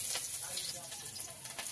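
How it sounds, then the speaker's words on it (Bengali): Chopped onion hits hot oil in a wok and sizzles briskly, a faint, steady hiss close by. "দিয়ে দিচ্ছি একটু পেঁয়াজ কুচি,"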